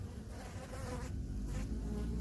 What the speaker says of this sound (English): Whole heap of bees, probably a couple thousand. A few thousand of them.